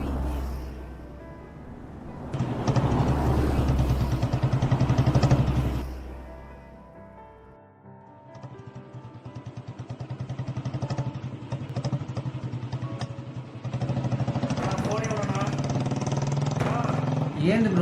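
A motorcycle engine runs close by, idling and revving in uneven bursts with mechanical clatter, while people talk over it.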